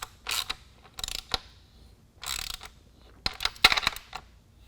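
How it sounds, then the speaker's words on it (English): A ratchet with a 13 mm socket tightens nuts on an EGR running board being installed on a 2011 Jeep Grand Cherokee, giving several short bursts of clicking with brief pauses between strokes. "Now we're going to use a 13 millimeter, tighten these nuts down"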